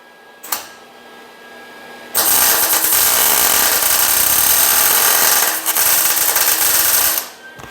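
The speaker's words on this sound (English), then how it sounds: "I'm going to put tack on the edge because the muffler's in the way" Welding tacks on a gas tank cross member from a 1978 Ford being fitted into a 2011 Ford Super Duty give two loud, steady buzzing crackles of a few seconds each, close by.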